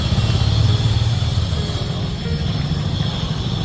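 Busy street traffic in India with motorcycles and cars, a dense, steady engine rumble holding at an even loudness throughout, some engines revving a little louder early on, with no voices standing out.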